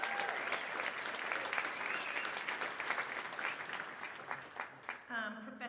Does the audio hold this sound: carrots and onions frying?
no